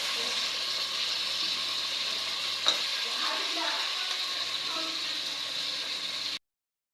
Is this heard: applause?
no